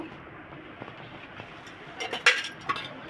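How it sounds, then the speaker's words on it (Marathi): Egg mixture for Bombay toast beaten in a bowl with a utensil, a light rhythmic clinking and tapping against the bowl that grows busier toward the end, close, with no speech. "अशा पद्धतीने फेटून घ्यायचं"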